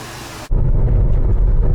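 An overhauled GM 3800 Series II engine runs steadily with a dense, low rumble, loud and close, starting abruptly after a brief burst of broadband noise.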